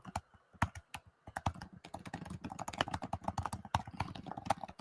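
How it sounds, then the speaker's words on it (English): Rapid, irregular clicking of keys on a computer keyboard, close and fairly quiet, continuing steadily with no voices. "Guys typing."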